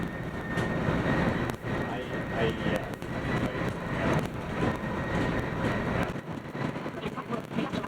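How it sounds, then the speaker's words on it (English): A Union Pacific oil train rolls past at Clinton/Sunset in Utah, a steady broadband rumble of cars held close and loud for several seconds with no letup. "First up was the Union Pacific oil train in Clinton/Sunset."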